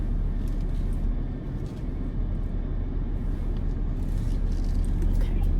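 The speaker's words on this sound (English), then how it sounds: "let me get out of here first without scraping my car up" A car's engine rumbles steadily while it eases out of a tight parking spot, a low continuous drone close by, with faint voices underneath.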